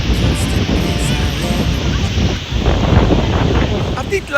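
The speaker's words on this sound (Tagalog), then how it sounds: "Kaso nga lang mahangin. Super hangin ngayon dito." Strong wind buffets the microphone at Waikiki Beach, a loud continuous roaring rush that swells and eases slightly, with faint surf and crowd murmur underneath.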